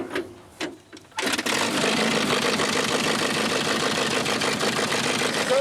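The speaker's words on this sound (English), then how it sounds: "this one is pulled by a tractor, which means there are 2 engines to start" A tractor engine on a wartime farm starts after a few knocks and then runs steadily, a loud continuous chugging idle close by.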